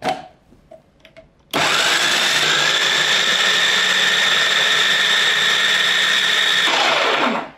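A mixer grinder jar coarsely grinds soaked chickpeas for falafel: a loud, steady high-pitched motor whir starts abruptly after a quiet moment, runs unbroken for about five seconds, then winds down.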